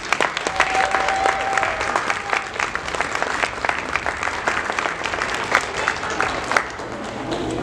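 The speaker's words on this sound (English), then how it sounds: "Huge round of applause for them." Sustained applause from an audience at a school awards ceremony honouring scholars, dense steady clapping throughout with a faint tone briefly audible early on.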